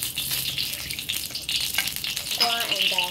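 Bean sprouts and carrot fry in hot oil, a steady close sizzle running throughout and growing louder near the end, with no talking.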